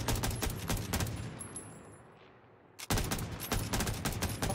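Gunfire from a heavy-recoil gun in a first-person shooter video game, loud bursts of rapid shots, a brief lull with a lone shot, then another sustained volley, with no talking.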